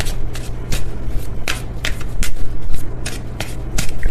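A Stellar Energy Oracle card deck being shuffled in the hands, a run of close, crisp riffles and flicks repeating in uneven bursts with a low steady hum beneath, no talking.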